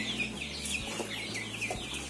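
A one-month-old young rooster from a backyard flock of four hundred clucks softly and repeatedly while being handled, with steady low background noise.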